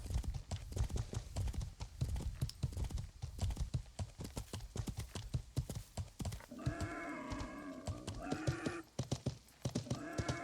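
Rapid, rhythmic clip-clop of horse hooves at a steady gait in the video game Life is Feudal, with a horse whinnying partway through.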